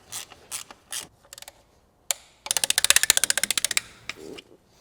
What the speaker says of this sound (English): I'm gonna tighten the bolts from inside to out